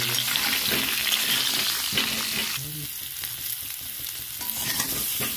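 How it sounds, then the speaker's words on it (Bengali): Small potatoes with salt and turmeric are stirred and fried in a pan for a Bengali choto alur dum, giving a steady close sizzle broken by repeated spatula scrapes and knocks, with no voices. "ভালো করে নেড়ে দিয়ে ভেজে নেব।"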